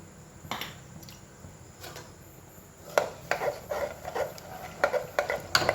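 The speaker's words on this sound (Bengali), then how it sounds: "ভালো করে নুনটা গুলিয়ে দিই" A spoon stirs salt into peas in a pot while ghugni is being prepared, making irregular wet clinks and scrapes that come soft at first, then turn quicker and louder.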